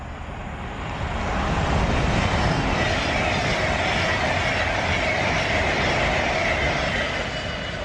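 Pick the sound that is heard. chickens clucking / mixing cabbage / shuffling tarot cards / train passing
train passing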